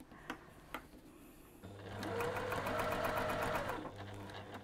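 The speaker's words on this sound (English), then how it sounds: "let me just do a bit of stitching" A sewing machine stitches a fabric gift pouch up close, starting after a couple of faint clicks and running in a steady mechanical whir for about two seconds before slowing to a stop.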